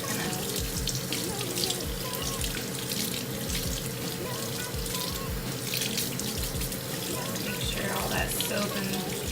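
A makeup brush being rinsed under a running tap: a steady, close splash of water into a sink that goes on without a break.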